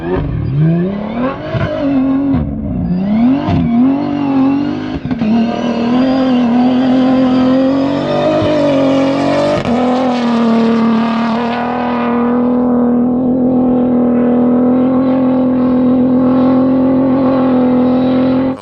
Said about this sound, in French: il y a encore une voiture qui arrive